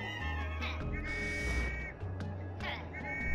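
Whistling from the video game Hey Pikmin rings out as sustained, steady tones over a background of game music and ambience, with faint voices nearby.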